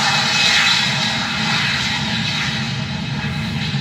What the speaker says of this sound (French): L'avion est là, l'avion est réel.